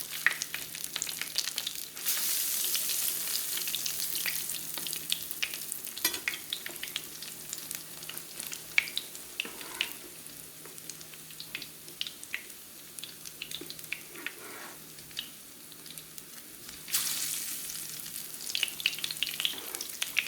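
Mochiko-coated mahi mahi fish steak frying in a skillet, giving a steady close sizzle with crackling spatters that swell louder near the start and end, with no talking.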